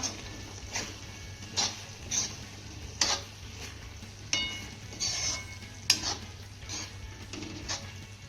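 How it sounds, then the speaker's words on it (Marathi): Chopped coriander being stirred into a papad curry in a pan, soft scraping and clinking strokes of a spoon against the metal every second or so over a faint low sizzle, with no voices. "ही कोथंबीर छान अशी मिक्स करून घेऊया"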